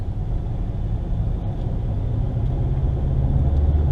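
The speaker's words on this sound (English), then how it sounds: "Now we're getting a little bit of traffic." Road traffic heard from inside a vehicle driving in the Philippines: a steady, even low rumble of engine and tyre noise with no talking.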